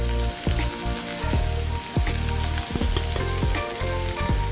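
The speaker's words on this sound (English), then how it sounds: "Give it a quick stir." Carrot, bay leaf and oregano sizzle in a hot pot for a lamb shank dish, with a steady loud frying hiss broken by repeated scraping stir strokes.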